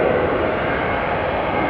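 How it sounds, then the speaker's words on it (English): A Qatar Airways jet airliner takes off from the center runway at Amsterdam Schiphol Airport, its engines giving a steady, loud, broadband roar that holds even throughout, heard from the airport side with no voices. "Now, as Qatar is taking off from center, Delta is taking off from Polderban."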